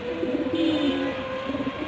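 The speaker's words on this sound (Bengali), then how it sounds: "সিলভার রানিং পেয়ার এই মুহূর্তে ডিমে আছে" Silver running pigeons, a nesting pair, give soft low coos in a short rolling burst, close and fairly clear against a faint background hum.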